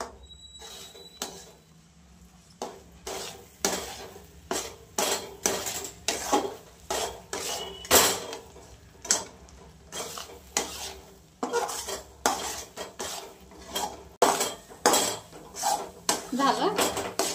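A spoon scrapes and knocks repeatedly against a pan while a milk modak mixture is stirred, producing a busy, rhythmic run of loud metallic clatters over a faint sizzle, with no one talking.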